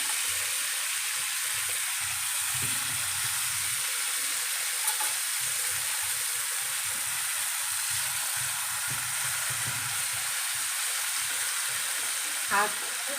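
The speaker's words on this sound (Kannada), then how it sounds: "ಆ ಕಡೆ ಈ ಕಡೆ ಉಲ್ಟ ಮಾಡಿಕೊಂಡು ಚೆನ್ನಾಗಿ ಫ್ರೈ ಮಾಡ್ಕೋಬೇಕು" Raw banana slices frying on a tawa, flipped from side to side, give a steady, even sizzle with soft spatula taps underneath, close and continuous throughout, with no talking.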